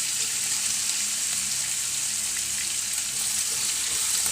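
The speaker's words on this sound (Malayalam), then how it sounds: "അപ്പോൾ എണ്ണ കാഞ്ഞു. അതിലേക്ക് ഇഞ്ചി വെളുത്തുള്ളിയൊക്കെ ഇടുന്നു." Ginger, garlic and green chilli fry steadily in hot oil for shellfish roast, a continuous loud bright sizzle with no voices and no break.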